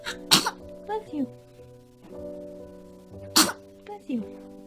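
A baby sneezes twice, two sharp close bursts about three seconds apart, with soft voices and a steady background hum between them.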